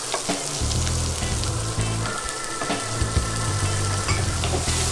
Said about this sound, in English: Some bits of this chorizo are starting to get nice and crispy